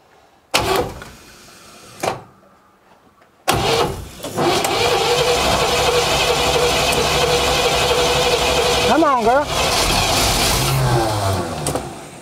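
Two thuds are followed by a 1957 Chevy Bel Air engine, flooded and unrun for 35 years, cranking, then catching and running loudly and steadily with a brief rev.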